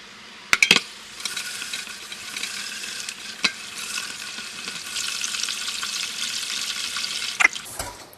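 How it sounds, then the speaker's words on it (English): Steady running tap water splashes and swishes over rice and dal in a container, with a couple of sharp clinks near the start and end, close and fairly loud. "I would have used pipe water to rinse my rice and dal mixture"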